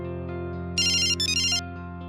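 A telephone ringtone sounds over speakerphone in an office scene, a bright electronic ring in two short bursts, clear and prominent over a steady background hum, with no talking.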